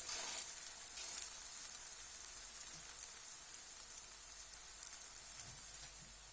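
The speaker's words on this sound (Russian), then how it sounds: "Второй блин тоже зажарился." A pancake fries in a pan re-coated to be non-stick, giving a steady, fairly quiet sizzle that runs throughout with small crackles and no talking.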